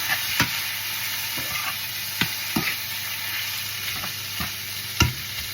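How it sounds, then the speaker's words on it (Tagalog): Boiled octopus sizzles in a pan as a spoon stirs it, with sharp clacks and scrapes at irregular intervals over a constant frying hiss, close up and without talk. "Ilagay na natin yung octopus natin na pinakuluan. Mikos-mikos pa rin natin."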